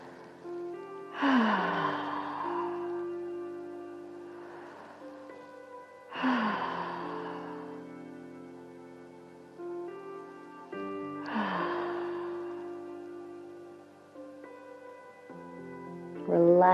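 Long, audible yoga exhales, three slow breaths spaced a few seconds apart, each starting as a strong breathy rush and fading away, heard close and alone over a soft sustained musical tone.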